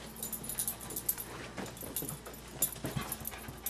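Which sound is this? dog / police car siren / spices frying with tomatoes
dog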